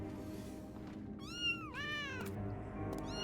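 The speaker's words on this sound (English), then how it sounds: "because now he's got all the kittens here." Kittens in Final Fantasy XIV: Dawntrail meow in a short series of high, rising and falling cries over quiet game ambience, three or four distinct mews spread across a few seconds.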